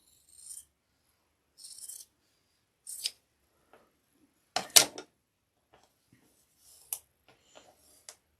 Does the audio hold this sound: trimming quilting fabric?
yes